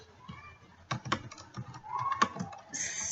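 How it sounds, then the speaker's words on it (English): Typing on a computer keyboard for a database entry, with irregular clusters of light key clicks, some louder taps, and quiet stretches between bursts, heard close. "Now we have to type in our details."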